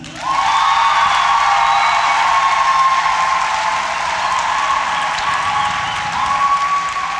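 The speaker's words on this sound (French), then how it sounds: "Applaudis." A cinema audience at a live comedy show applauds loudly and steadily, dense clapping mixed with a few whoops and cheers, sustained for several seconds before easing slightly.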